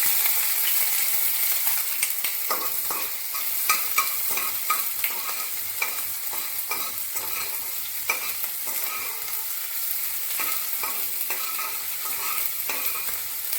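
Chopped ginger fries in hot oil with bay leaf and cumin for a Bengali potato curry. A steady close sizzle runs throughout, broken by repeated scraping stirs of a spatula against the pan, with no talking.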